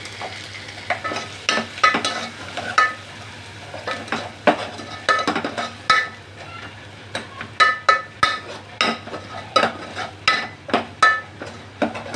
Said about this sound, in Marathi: आता जे आपण हिरवं वाटण केलेलं आहे लसूण खोबरं आणि कोथिंबीरीचं ते टाकून घ्यायचं